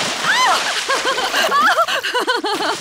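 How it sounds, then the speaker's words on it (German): Cartoon water splashing as Peppa Pig and Daddy Pig play in warm water, with repeated splashy bursts mixed under lively character voices and chatter throughout. "Ich glaube, wir haben genug gespritzt."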